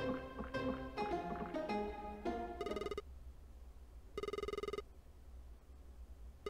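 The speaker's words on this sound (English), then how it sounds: "Now the phone's going to start ringing." In the video game Red Bow, after some musical tones, a phone rings in two buzzing bursts with a silent gap between them, loud and clear without any talk.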